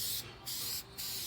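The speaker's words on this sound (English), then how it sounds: "Make sure you spray it." A spray gun or aerosol hisses in two bursts while red paint goes onto a truck for a patina finish, with short pauses between passes; the spray is steady and close, with no talking.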